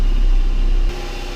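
A 2005 Dodge Magnum engine idling rough just after a PCM replacement, a steady close engine drone with low rumble that drops slightly in level partway through, with no talking.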